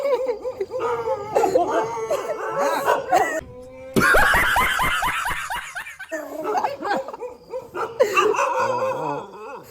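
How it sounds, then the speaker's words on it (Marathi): Several dogs barking at night around 11:15 pm near a villa, in repeated bursts, fairly close and loud, mixed with bouts of human laughter. "तर गाईज लय कुत्रे भुकताय."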